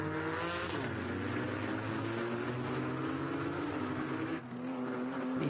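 Porsche race cars at Donington Park rev loud and close through the Melbourne hairpin, engines droning steadily with shifting pitch as they brake and accelerate out of the tight corner.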